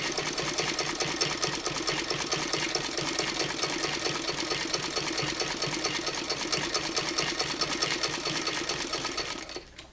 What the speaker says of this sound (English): this is the easiest type of hand cranking because you're not manipulating all of the quilt itself